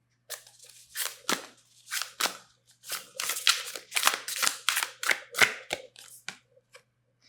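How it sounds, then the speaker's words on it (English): Tarot cards being shuffled by hand, a series of crisp riffling bursts and shuffles following one another closely and up close, with no talking. "These cards are great. They can be a little hard to shuffle."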